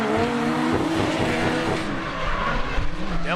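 Drift cars at a street league event, engines roaring hard at full throttle while tires squeal and skid, loud and continuous with rising and falling engine pitch and no talk.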